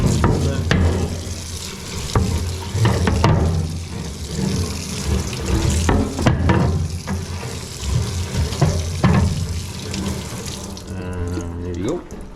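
Dishes are rinsed under a running kitchen tap, with a steady splashing stream of water over clinking and clattering dishware, close and fairly loud.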